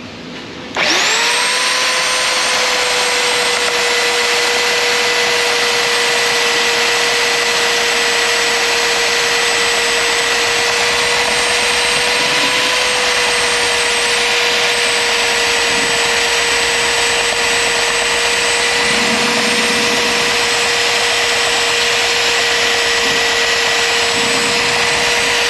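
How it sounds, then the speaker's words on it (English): A heavy belt sander fitted with 80 grit paper whirs up and runs at a steady, loud, high-pitched drone for the whole stretch, with faint rubbing variations near the end. "Heavy belt sander coming in for the win. Got, I think, like a 80 grit on the bottom of it."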